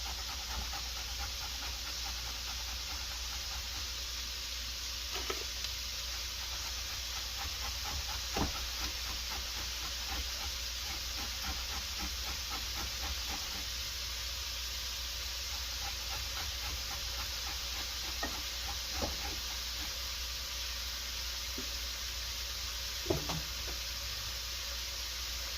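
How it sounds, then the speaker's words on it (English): Shrimp sizzling in a hot pan for keto shrimp fried rice, a steady, fairly faint hiss that holds throughout with occasional small pops and no talking. "So when we add the shrimp in there, that it hits them real quick."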